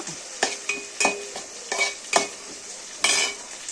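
Green chillies frying in a pan for cashew chicken ghee rice: quick metallic spatula taps and scrapes come in short bursts over a faint, soft sizzle, close and quiet, with no voices.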